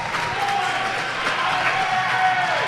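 Players and staff on the Northumberland bench stand and clap and cheer for their team during an ACAA basketball tournament game, a steady crowd wash of applause with a sustained whistle-like tone running through it.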